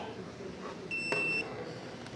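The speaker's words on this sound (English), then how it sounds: "So, makes that beep." An electronic smart lock gives a short high-pitched beep, a steady tone of about half a second, with a brief click partway through, heard close up against quiet room noise.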